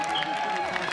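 A crowd at a women's cross-country mountain bike World Cup race at Mont Sainte Anne, a dense, loud, brief wash of voices calling and chanting, with speech mixed in.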